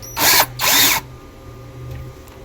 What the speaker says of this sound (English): I'll drill it again, push a little harder, and use the bit itself to rock this out